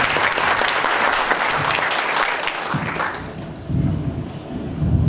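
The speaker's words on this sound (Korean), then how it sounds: "힘찬 박수로 부탁드리겠습니다." Audience applause at a book concert in Changwon greeting a politician, a loud sustained crowd clapping that tapers slightly after about three seconds, with some low crowd rumble underneath.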